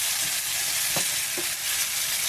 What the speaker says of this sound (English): let's just mix it round again. Now we're supposed to cook this for about 2 minutes